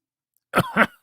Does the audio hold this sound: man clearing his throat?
yes